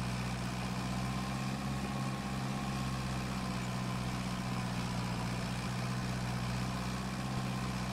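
Tractor engine idling in the Farming Simulator 22 video game, a steady low drone with a constant hum that holds evenly throughout, loud and unbroken with no talk.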